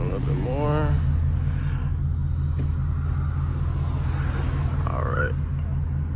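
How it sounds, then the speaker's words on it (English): A deep, steady rumble of a Ford Mustang GT V8 exhaust idling close by at night, with someone talking briefly over it. "I'll try not to talk too much so y'all can just hear the exhaust on this thing"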